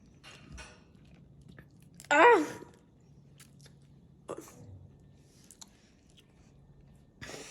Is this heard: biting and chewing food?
yes